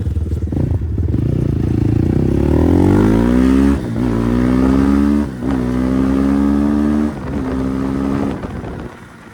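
Engine of a Kovi Max 300 vehicle revving hard and accelerating, close and loud, its pitch climbing in steps with brief dips between gear changes, no voices.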